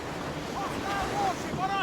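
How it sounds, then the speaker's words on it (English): Wind and surf in a rough sea squall around a sailing ship in Assassin's Creed Rogue, a steady roar of waves and gusts with faint creaks and whistles on top, no talking. "Quite a rough squall, Captain."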